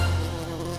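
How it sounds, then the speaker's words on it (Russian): Cartoon wasp buzzing, a loud close steady drone that lasts the whole brief moment with no voices over it. "Опять оса!"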